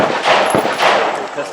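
Rifle fire at a two-gun shooting match, a dense, loud burst of rapid shots that overlap into a sustained clatter with no clear gaps.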